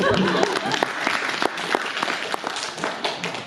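Applause from the audience at a literary reading evening, a dense wash of clapping with distinct sharper claps close by and a few faint voices underneath.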